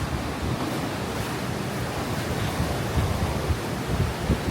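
Steady ocean surf washes continuously at a scenic coastal viewpoint, a broad even roar of waves with some wind buffeting the microphone and no voices.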